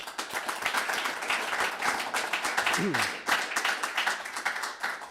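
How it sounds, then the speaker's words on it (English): Steady applause from a crowd, dense clapping that holds for several seconds, with a brief low tonal sound partway through. "Round of applause."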